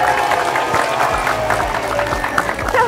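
A crowd applauds at a gift presentation on an Indonesian home-renovation show, with dense clapping and murmuring voices blended into a steady, close wash of noise.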